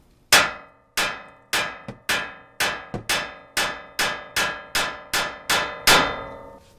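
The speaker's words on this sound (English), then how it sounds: "I'm just gonna strike it right here on that spindle" A small hammer strikes the steel spindle of a Toyota Tacoma about a dozen times in a steady rhythm, each blow a sharp, close metallic clang with a short ringing decay, and no talking.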